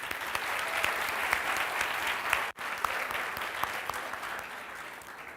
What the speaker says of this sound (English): So round of applause for all of you and such a warm welcome.